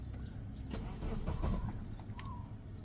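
A BMW E36 with the M43 engine, hard to start, cranks briefly on a push-button start, a short mid-level whir of starter and engine under steady car ambience, with no talking.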